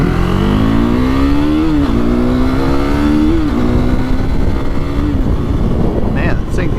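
A KTM RC 390 motorcycle pulling hard through the gears, its engine note climbing steadily with short dips at each shift, loud and close with constant wind roar.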